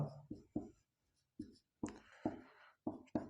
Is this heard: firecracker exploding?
no